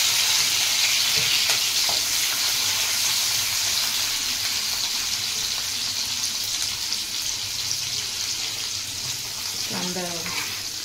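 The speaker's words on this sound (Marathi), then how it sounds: "तेव्हा कांदा फ्राय झालाय।" Chopped onion fries in a pan with cumin, garlic and green chili for a potato bhaji, a steady close sizzle running throughout, with a few soft stirring clinks near the end.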